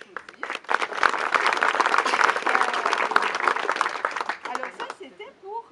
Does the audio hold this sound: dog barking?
no